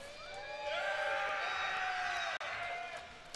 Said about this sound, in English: there were a few enthusiastic noises coming from the crowd there